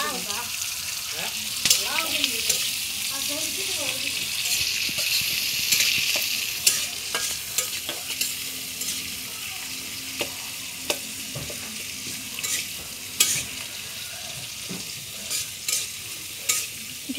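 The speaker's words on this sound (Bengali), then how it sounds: "ভেজে নিচ্ছে।" Garlic and ginger paste fries in a pan with a steady, close sizzle under repeated stirring scrapes and knocks, while people talk faintly in the background.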